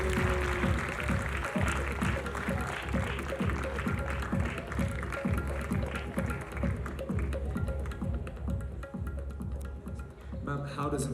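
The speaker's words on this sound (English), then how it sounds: "Everybody in the house, let's have a huge round of applause." Audience at a college festival event gives a round of applause, clapping that is dense at first, then thins and fades, with a voice over the crowd.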